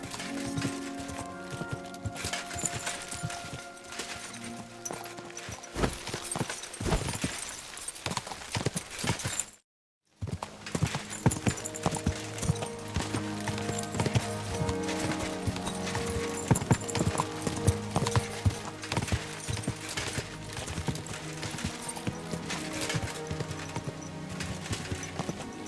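Horse hooves clip-clop in Kingdom Come Deliverance II, a loud, close, continuous trotting rhythm lasting most of the stretch, broken by one brief silent gap, with little or no talking.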